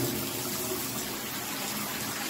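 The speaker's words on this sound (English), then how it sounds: "I can fill this tub up in less than 5 minutes" High-flow bathtub tap gushes water into a tub in a steady, loud, unbroken rush, close by with no talking.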